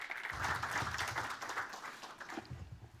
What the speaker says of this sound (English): Mr. Irving, please welcome him with applause.